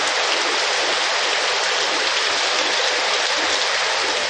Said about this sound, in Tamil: சிவகங்கை மாவட்டம் காரைக்குடியில் சுமார் 1 மணி நேரம் மழை பொழிந்தது.